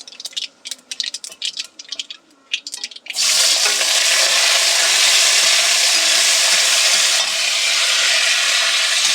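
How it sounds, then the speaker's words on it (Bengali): Diced potato tipped into hot oil with curry leaves and black mustard seeds for a flattened-rice pulao bursts into a loud, steady sizzle about three seconds in, following a few earlier crackles and pops, and it keeps frying close and strong to the end. "একটা আলুকে খুব ছোট ছোট করে কেটে ধুয়ে রেখেছি আলুটা দিয়ে দেবো"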